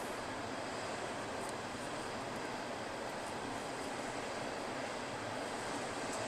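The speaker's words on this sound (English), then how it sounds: "There's a train going by right now, by the way." A passing train gives off a continuous, even roar that holds at the same level throughout, fairly distant and unbroken by any voices.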